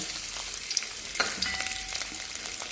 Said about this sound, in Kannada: ಈಗ ಒಂದು ಬಾಣಲೆ ಇಟ್ಟು ತೆಂಗಿನಕಾಯಿಯನ್ನು ಫ್ರೈ ಮಾಡಿ ತೆಗೆಯುವ